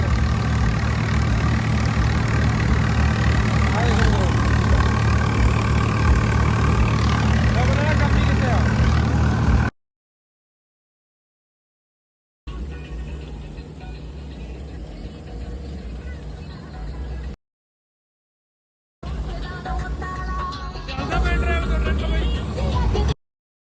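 A tractor pulls a loaded trolley during straw work on a farm. Its engine keeps up a loud, steady, close rumble in three stretches separated by abrupt silences, with some voices mixed in.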